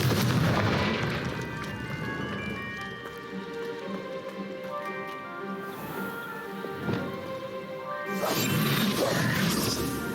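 Confringo fire spell blasts in Hogwarts Legacy, loud booming crashes at the start and again near the end, with rumbling explosive debris and game music tones between them.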